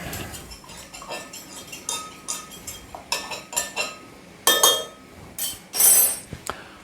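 Spoon clinking and scraping against a pot while a beef-based stew with tomatoes is stirred, irregular metallic taps and clinks, with a few louder knocks near the end, close and alone.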